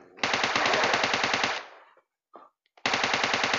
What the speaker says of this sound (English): You guys are shooting zombies.